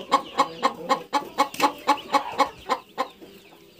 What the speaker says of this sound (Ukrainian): Курочка знеслася, кричить.